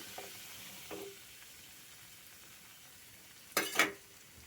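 One cup of semolina tipped into hot ghee in a pan, a soft steady sizzle with a few faint stirs, then two brief louder scraping rattles near the end.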